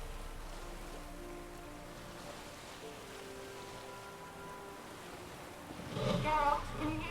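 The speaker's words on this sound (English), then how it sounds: "We're doing it in the rain." Steady rain falls in the Witcher 3 video game, a constant soft hiss of drops on surfaces that continues throughout, with a brief voice rising near the end.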